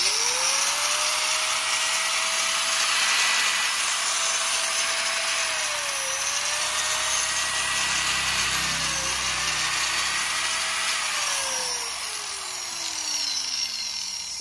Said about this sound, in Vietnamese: Mài của Hitachi nha anh em.